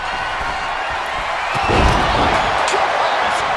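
Roaring arena crowd in the WWE 2K25 wrestling video game, a dense, steady wall of cheering noise that swells briefly louder midway, as if reacting to a big top-rope move, and stays loud throughout.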